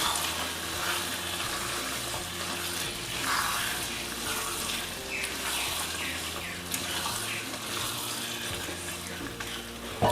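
Chicken kondattam with curry leaves being stirred in a hot pan gives a steady, close sizzle with scraping and mixing noises running throughout, with no talking.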